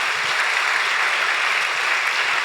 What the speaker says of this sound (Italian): Anche a lei tributiamo un applauso di benvenuto.